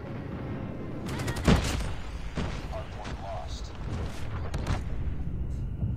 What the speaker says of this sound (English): Freaking airstrike and martyrdom!